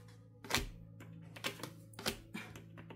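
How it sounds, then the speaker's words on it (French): Tarot cards being shuffled by hand: a series of short papery riffles and taps, four or five bursts spaced under a second apart, close and fairly soft over a low steady hum. "je suis en train de mélanger les cartes"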